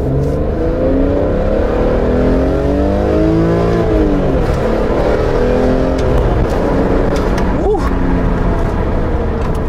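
A BMW E46 M3 engine accelerates from inside the car, its tone rising and sweeping steadily through the revs at close range, with voices talking over it throughout.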